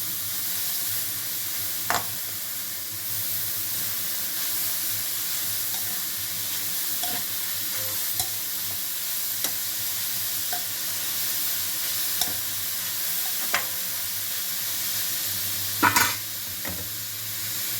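Egg and grated carrot fry in a pan under a steady close sizzle, with scattered sharp clinks and scrapes of stirring. There is no talk.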